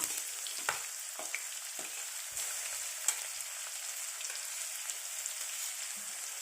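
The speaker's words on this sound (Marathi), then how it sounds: "कांदा टाकणार आहे हिरवी मिरची कधी पण अगोदर टाकायची" Onion and green chili fry in a pan for a Marathi potato dish, giving a steady close broadband sizzle with a few sharper crackles and spits scattered through, no voices.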